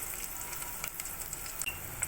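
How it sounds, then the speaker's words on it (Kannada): Garlic sizzles in hot oil for tempering a mutton keema sambar, a steady soft hiss of frying with faint crackles and pops, close and alone. "ಒಗ್ಗರಣೆಗೆ ಬೆಳ್ಳುಳ್ಳಿ ಹಾಕೋತಾ ಇದ್ದೀವಿ"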